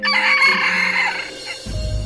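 A red jungle fowl crows once in a wild Philippine forest, giving a loud, close, strained cock-a-doodle-doo that ends after about a second and a half, followed by a low rustle.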